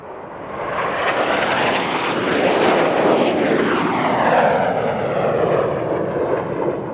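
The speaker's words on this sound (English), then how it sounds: "As the smoke comes back on and the jets sweep in from the right-hand side" Jet aircraft sweep past at an airshow, a loud, continuous broadband roar that swells and sustains for several seconds, with a shifting whooshing tone as the display jets pass overhead in formation, no voices heard.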